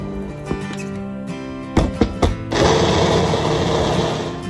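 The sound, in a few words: blender mixing baka for abolo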